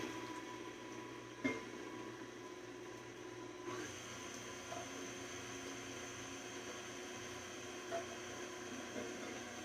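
An electric mixer runs steadily on low while mixing cake filling for a Boston cream pie, a constant even whir with a couple of faint clicks, no talk over it.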